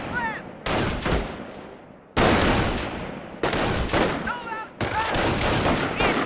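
Company of Heroes battle gunfire, with loud rifle and machine-gun volleys in repeated bursts broken by brief pauses, mixed with game voices and chirping sound effects.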